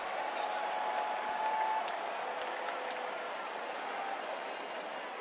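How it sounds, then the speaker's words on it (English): Steady applause from a crowd, a continuous wash of clapping at moderate distance that holds evenly for several seconds. "why are they clapping?"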